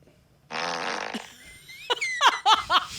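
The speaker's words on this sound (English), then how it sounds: "it's usually a different fart sound" Comedic fart sound effect played from a soundboard, a long buzzing raspberry followed by a burst of squeaky giggling laughter.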